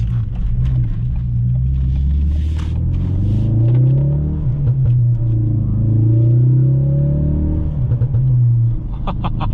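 A 2017 Ford Focus RS engine drones and rumbles from the cabin while driving, low and steady with gentle rises and dips in pitch as the revs change, and no talking over it.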